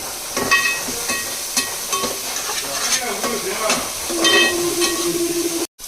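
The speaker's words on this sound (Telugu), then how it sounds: "కొంచెం ఫ్రై అయిన తర్వాత ఒక 7-8 పచ్చిమిర్చి ఇలా సన్నగా చీలికల్లా చేసుకుని వేసేసుకోవాలి." Sliced green chillies fry in hot oil for a crab curry: a steady, close sizzle with repeated clatters of a stirring spoon against the pan.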